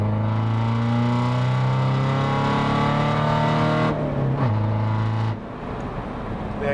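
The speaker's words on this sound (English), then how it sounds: "Exhaust on this is just awful." A tuned 263 bhp 1.6 TDI diesel car with a loud, droning exhaust is held at high revs with a steady harmonic roar, then drops back and eases off toward a lower idle, close and alone without talk.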